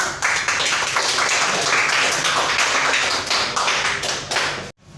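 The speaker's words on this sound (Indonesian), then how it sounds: "Boleh tepuk tangan dulu teman-teman?" An audience at an alumni inauguration ceremony in Papua claps in a brisk, close burst of applause lasting about five seconds before it cuts off abruptly.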